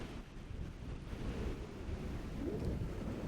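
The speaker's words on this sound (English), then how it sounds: "It's far too windy." Steady strong wind buffets the microphone beside a reservoir in northern Spain's Basque Country, a continuous low roar with gusty swells and no voices.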